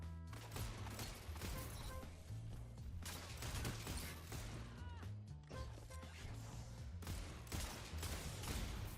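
Kept Confidence hand cannon from Destiny 2 firing in rapid, dense volleys with sharp, loud cracks, layered with game effects and a steady low thumping beat underneath, no talking.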